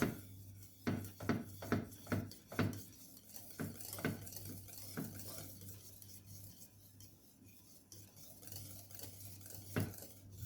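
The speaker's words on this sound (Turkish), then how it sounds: "Şimdi krem şantimizi ekleyip karıştırabiliriz" A spoon stirs whipped cream into a pot of pudding, scraping and clinking against the pot in a quick run of strokes that slows and fades into quieter stirring, with one final knock near the end.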